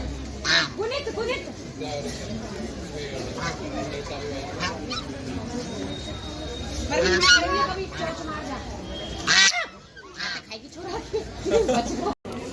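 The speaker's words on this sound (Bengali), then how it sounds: "কিচি আওয়াজটা হচ্ছে এই হাঁসের" A flock of ducks quacks and honks in bursts close by, with people talking throughout and a few louder clatters near the end.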